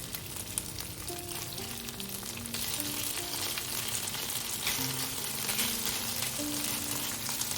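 Shrimp spread in a single layer sizzle steadily in a hot pan for a shrimp and broccoli stir fry, a continuous crackling fry with faint clinks and stirring, no voices.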